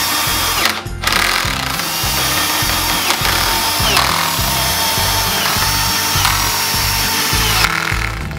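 Power tool work while reclaimed wood boards for an outdoor dining table are attached with finish nails used as spacers, heard as a steady rhythmic mechanical chatter running continuously and loudly throughout.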